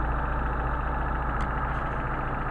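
Mercedes 190SL engine on Solex 44PHH carburetors idling at about 700 rpm, a steady low, even rumble close by with no change in pace.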